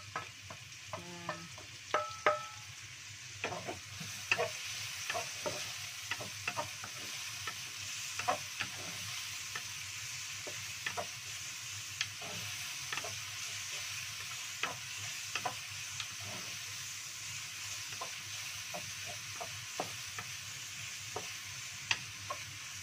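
Garlic, chili and water spinach stir-frying in a pan, with a steady soft sizzle and scattered sharp clicks and scrapes of a utensil stirring, faint and close.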